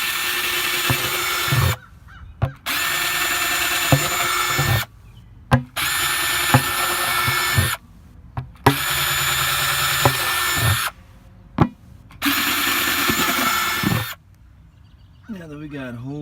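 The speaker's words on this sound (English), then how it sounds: "Take your drill and just drill some holes" A power drill bores holes into plastic buckets, sounding as repeated loud whirring bursts a couple of seconds long with brief pauses between them.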